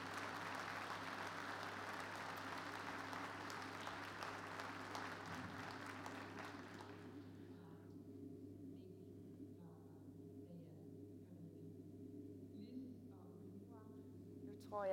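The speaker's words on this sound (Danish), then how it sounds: "Stort bifald til alle deltagerne" A crowd applauds all the participants at a televised event, a dense, steady wash of clapping over a low hum that fades out after about seven seconds, leaving quiet room tone.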